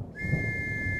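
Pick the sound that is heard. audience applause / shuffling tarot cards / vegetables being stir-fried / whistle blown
whistle blown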